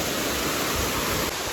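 Water pours steadily at Kothapalli waterfalls, a dense, constant hiss and rush filling the short stretch without any voices.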